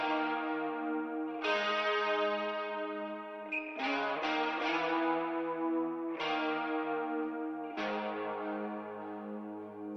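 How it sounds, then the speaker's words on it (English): A music track with an Arteria spring reverb effect: sustained harmonic chords and a melodic line restart every few seconds, each followed by a messy, dirty reverb tail, with the lows rolled off, steady and fairly loud with no voices. "Then I've put the Arteria spring reverb, a nice kind of messy, dirty sounding reverb"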